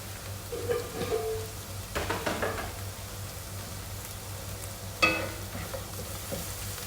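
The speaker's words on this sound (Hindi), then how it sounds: "अब मैं इसके अंदर मेरे ड्राई इंग्रेडिएंट्स जो हैं वो सब डाल दूँगी ताकि मैं उनको थोड़ा सा फ्राई कर लूँ।" Dry spices and cumin seeds fry in hot oil in a pan, giving a steady light sizzle with scattered crackles and a few bursts of stirring, close by and without speech.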